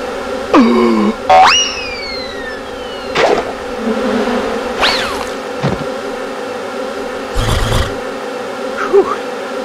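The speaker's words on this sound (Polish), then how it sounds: "No co za zasrane pszczoły" Buzzing bees in the Tigger and Pooh PC game, heard as short wavering buzzes with bouncy springy effects, scattered through the clip and standing alone without talk.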